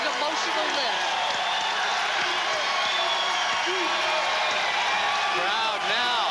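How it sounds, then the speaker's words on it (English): A loud basketball crowd on its feet at Diddle Arena during a women's college game, roaring and cheering in a steady, dense wall of noise with scattered claps and whoops, a commentator talking over it. "Crowd now could be a factor. They're on their feet and they're loud."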